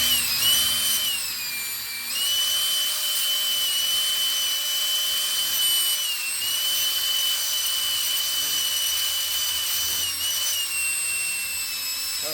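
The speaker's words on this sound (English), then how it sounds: "I want to drill those up there" Power drill boring holes in wood overhead, a steady high-pitched whine that runs almost continuously, with brief dips in load and one short pause, close and loud with no talking.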